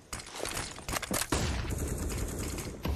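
Counter-Strike match gunfire on the Vertigo map during a professional tournament, rapid loud bursts of automatic shots and sharp single cracks packed close together.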